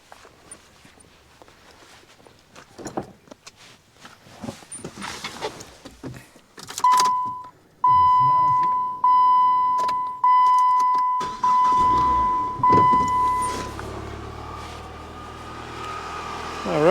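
A car engine cranks and fires into a strong start off an Avapow jump starter, following a run of warning chimes and rustling, then settles into a steady idle close by.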